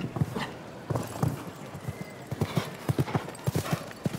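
A horse wearing a plain snaffle bit moves at a steady stride across a show-jumping arena, its hooves clip-clopping in a brisk, even rhythm, loud and close, with faint crowd ambience behind.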